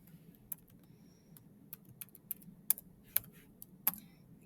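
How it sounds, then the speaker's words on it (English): Quiet typing on a computer keyboard while entering an inequality into a Desmos graphing calculator, a scatter of separate key clicks of varying loudness over a low room hum, with no voices. "if I'm just typing in this inequality"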